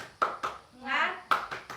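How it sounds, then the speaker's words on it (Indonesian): Children in a combined grade 4 and 5 classroom do a rhythmic spirit clap, sharp bursts of hand claps in a short pattern with a voiced chant between them, close and lively. "Ayo, Ibu kasih hitungan ya. 1, 2, 3. Tepuk semangat."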